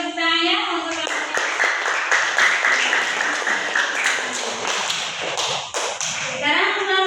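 Students in a classroom clap together for classmates, a burst of brisk, uneven applause rising after a second and fading near the end, with children's voices and a sung tone around it.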